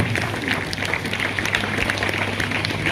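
A church congregation at a St. Joseph feast in Adaikalapuram claps together in a brief, moderately loud patter of overlapping hand claps.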